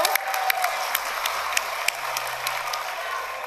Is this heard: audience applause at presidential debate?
yes